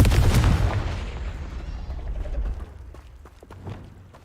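A Confringo blasting spell in Hogwarts Legacy goes off as one loud, close, booming explosion with a heavy low rumble. It fades over about two seconds, and a softer thud and faint crackles follow.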